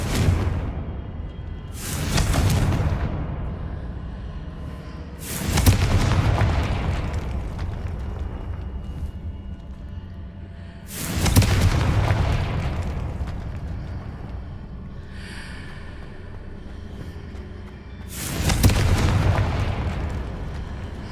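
Four booming Confringo spell explosions from a video game, each a loud sudden blast that rolls off over a couple of seconds, spaced a few seconds apart with low rumble between them.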